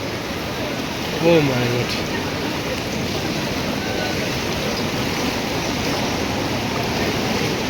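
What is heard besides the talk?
flood water pouring into the street and through a shop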